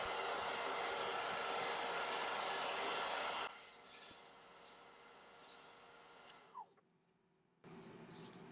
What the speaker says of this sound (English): Just grab a little 1-inch scraper. Just to refine that curve.